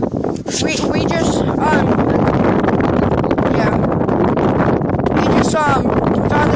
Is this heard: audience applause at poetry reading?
no